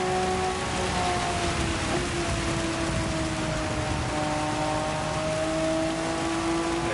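Steady rain hiss from a Gran Turismo 7 race at Suzuka, with a race car's engine drone running underneath throughout.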